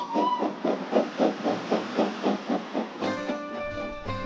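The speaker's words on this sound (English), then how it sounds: "So magical is this little train, it was cast as the Hogwarts Express in the Harry Potter films." The Jacobite steam train in the Scottish Highlands chugs in a steady, even rhythm of exhaust beats, then a long tonal steam whistle sounds over the running train near the end.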